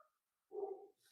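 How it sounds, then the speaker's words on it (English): A dog gives a single short, muffled bark indoors, faint and somewhat distant in a quiet room, with nobody talking. "That's my dog."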